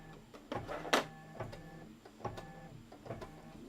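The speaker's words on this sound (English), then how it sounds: "Do the decorative stitch." A sewing machine works a decorative stitch, giving short uneven bursts of mechanical clicking and whirring with a sharp louder rattle near the start, fairly close and quiet overall.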